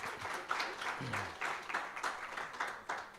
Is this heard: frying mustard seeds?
no